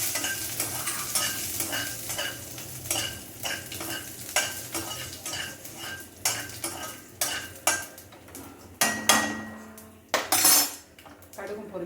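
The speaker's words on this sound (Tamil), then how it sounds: "கடுகு பொரியட்டும் கருவேப்பில் போட்டுக்கினேன்" Mustard seeds spluttering and curry leaves sizzling in hot oil for a roasted brinjal thuvaiyal tempering, with a steady crackle under repeated metal clinks and scrapes of a spoon against the pan, close and fairly loud.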